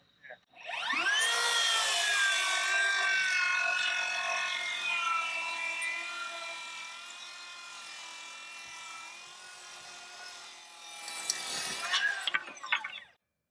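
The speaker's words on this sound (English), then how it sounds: "we're going to make a full rip cut with our 10 1/4 inch rear handle circ saw with a standard BL4040" Makita 10 1/4 inch rear handle circular saw ripping a full-length cut, running on a standard BL4040 battery: a loud, steady whine from spin-up to wind-down over about twelve seconds, close and unbroken, with no talk.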